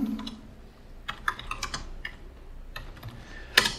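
Password being typed on a computer keyboard while logging into a Linux server as root: a few scattered, quiet key clicks with gaps between them, ending in one sharper keystroke.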